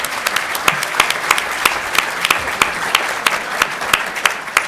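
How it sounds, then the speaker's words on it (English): An audience at an Illinois pension policy panel applauds in a dense, steady burst of many hands clapping at once, sustained evenly from start to finish with no voices on top. "How about a round of applause?"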